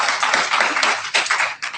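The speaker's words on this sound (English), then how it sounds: "So let's give her a big round of applause." An audience applauds a speaker, dense clapping close and loud for under two seconds, with no voices over it.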